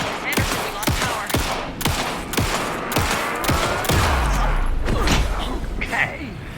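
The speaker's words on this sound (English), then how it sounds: "Anderson, pin him down with gunfire for me to get the light on him." Rapid bursts of gunfire in Alan Wake 2, about eight sharp shots spaced roughly evenly, followed by a denser volley over a low rumble near the end.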